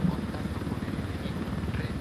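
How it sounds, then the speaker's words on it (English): Steady, fairly close rotor chop of a helicopter in a military video game as it sets down, a continuous rhythmic thrum throughout. "I'm gonna set down the helicopter so I don't die that."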